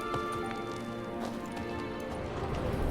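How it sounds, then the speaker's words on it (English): Hooves of a Kelpie horse clop at a steady gallop under a constant wash of music and ambience in The Witcher 3, a moderately loud, continuous rhythm. "Another horse. Almost exactly like the last one."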